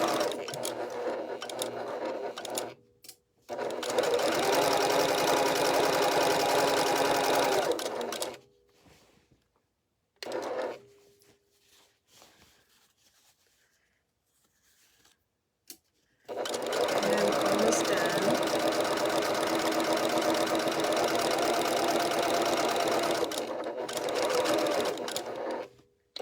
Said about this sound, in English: that's the thread cutter, and it's really loud on this machine